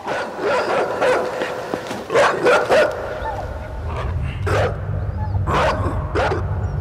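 A pup barks and yips in a few sharp bursts, fairly close, with some whimpering between, while a low rumble runs underneath.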